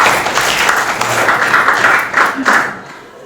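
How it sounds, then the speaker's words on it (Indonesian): Classroom applause for a student named Satria after he reads a short story aloud, a dense patter of clapping hands lasting about three seconds before fading out. "Tepuk tangan untuk Satria."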